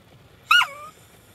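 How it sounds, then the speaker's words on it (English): A dog in a parked car in a store parking lot gives a single short, sharp bark, slightly whiny, close and alone against quiet background hum. "barks at everybody in the parking lot"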